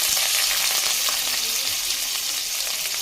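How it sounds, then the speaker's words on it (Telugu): Chopped onion frying in hot oil in a pan, giving a steady, close, continuous sizzle with no pauses. "అలాగే ఉల్లిపాయ వేస్తున్నాం"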